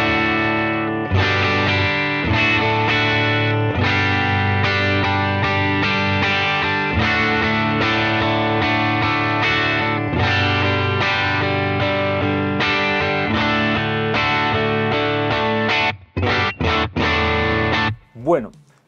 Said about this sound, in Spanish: luego guitarra ampli overdrive, luego guitarra ampli distorsión